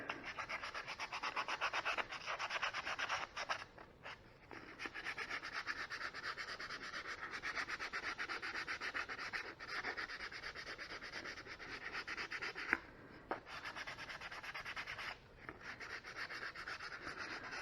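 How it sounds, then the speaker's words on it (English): Continuous hand sanding with 320 grit sandpaper on an old Cub Cadet barn-find part, a steady raspy scrubbing that pauses briefly a few times, fairly faint and close. "this is just some 320 grit sandpaper"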